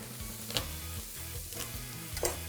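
A tablespoon-sized pat of butter melts in a pan readied for steak, giving a steady soft sizzle with a few faint clinks, close and low in level with no voices.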